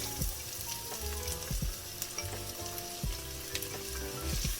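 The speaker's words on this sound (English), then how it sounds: "So we're adding our garlic and our onions." Garlic and onions dropped into hot oil for leek and potato soup, a continuous crackling sizzle with occasional clinks and stirring knocks of a utensil on the pan, near and moderately quiet.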